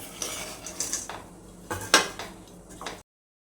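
Roasted dry fruits scraped and tipped from a pan onto a plate, giving a run of dry clattering scrapes and metallic clinks with one sharper knock, close and uneven, ending abruptly.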